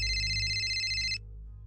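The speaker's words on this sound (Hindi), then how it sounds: "लेकिन तभी जेराल्ड का फोन बज उठा।" A mobile phone rings with a bright, steady electronic ringtone for just over a second, then cuts off abruptly, leaving a low background hum.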